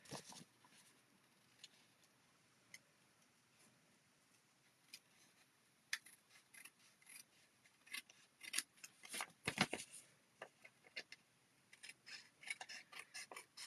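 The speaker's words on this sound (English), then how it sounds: "Grab your scissors." Sharp scissors snip through folded paper card while making a triple-fold belly band card, quiet scattered cuts at first, then faster bursts of close, crisp snips with short pauses between.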